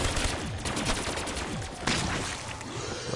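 Dense, rapid gunfire from a zombies shooter game rattles continuously at close range, with bursts overlapping into a near-constant barrage and one sharper blast midway.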